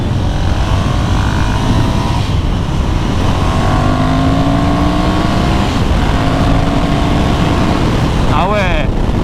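A Ducati Monster 1100 Evo engine pulls hard with rising harmonic sweeps through the gears, loud and close, with wind and road rumble beneath.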